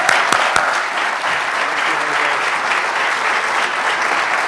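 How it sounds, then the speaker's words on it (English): An audience at a Green Party lecture applauds an introduced speaker, a full, steady round of clapping from a sizable room with a few louder claps at the start. "So let's give him a good round of applause"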